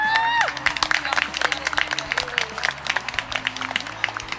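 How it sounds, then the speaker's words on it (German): Spectators at an equestrian riding competition applaud, with brisk, uneven clapping after a brief voice at the start and a low hum underneath. "das wurde natürlich von uns allen mit Applaus belohnt"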